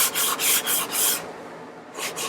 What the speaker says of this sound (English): So some finishing sanding.